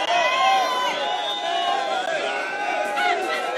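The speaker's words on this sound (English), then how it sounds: "Some of the crowd shouted back at Deputy President William Ruto after he made his first stopover at Kachiroba Cherangani constituency" A crowd at a Kenyan political rally in Kachiroba, Cherangani constituency, shouts back at Deputy President William Ruto, a loud, dense mass of overlapping voices and chanting that holds steady throughout.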